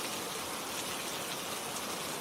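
Steady rain falls continuously as broadband hiss across the whole stretch, even and unbroken, with no voices and no distinct individual drops standing out.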